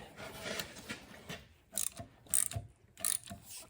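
A ratchet wrench tightens a coated brake line fitting on a Dodge Colt, heard as short bursts of close, crisp clicking pawl strokes separated by brief pauses.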